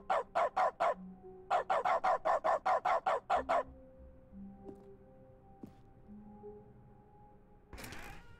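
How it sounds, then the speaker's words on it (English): Video game dog barks triggered by mouse clicks in The Stanley Parable's dog mode, firing in a rapid, evenly spaced run of about a dozen loud barks, followed by quiet hum and a brief noisy burst near the end. "Oh my god, when I click it barks."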